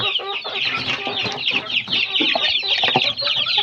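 Young native fighting chickens, about a month old, cluck and peep continuously in a dense, overlapping chorus close by, with many birds calling at once and no talk.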